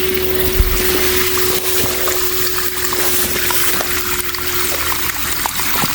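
Water from an above-ground pool gushes steadily out of a siphon vacuum hose, a continuous loud rushing and splashing that lasts throughout with no talk.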